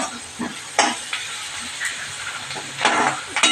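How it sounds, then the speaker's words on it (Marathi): Half-cooked onion sizzles in a pan for fenugreek pithla, with steady frying hiss broken by several scraping stirs up close. "छान आपण परतून घेऊया."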